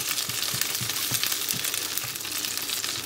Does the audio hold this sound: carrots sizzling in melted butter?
yes